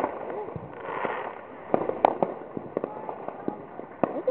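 Backyard fireworks pop and crackle in quick bursts at moderate distance, sharp cracks scattered over a steady outdoor hiss, with faint voices in the background.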